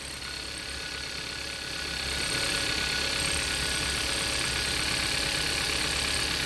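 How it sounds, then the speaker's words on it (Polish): A Kia Sportage 1.6 GDI petrol engine with a high-pressure fuel pump warms up at idle, producing a steady mechanical hum with a constant hiss and whine that grows slightly louder after a couple of seconds. No one speaks. "Ok, silnik się nagrzewa. Słuchajcie, on tak dziwnie syczy,"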